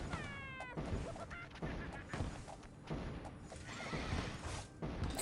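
Horse in a video game, a loud whinny at the start followed by repeated clip-clop hoofbeats and scattered impact noises from the game, moderately loud with faint voices under it.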